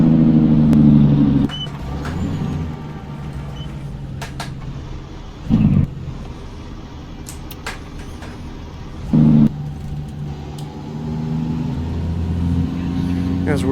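In American Truck Simulator, a truck hauling an oilfield lowboy trailer on snowy roads gives a steady, low engine drone. Two brief louder thumps rise over the hum along the way.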